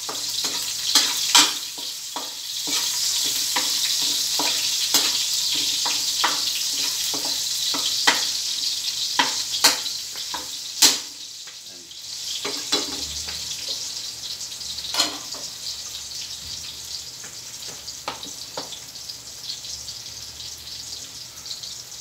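Garlic fries in a pan for Filipino garlic fried rice, a bright continuous sizzle broken by repeated spatula scrapes and taps, close-up, easing slightly halfway before resuming, with no talking.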